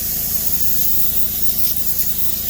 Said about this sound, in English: I get all the excess out by spraying it out